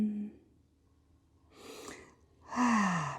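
Breathing during a resting child's pose in a beginner yoga flow: a soft exhale, then a brief gasping inhale, and a louder sighing breath at the end, close and alone with no talk.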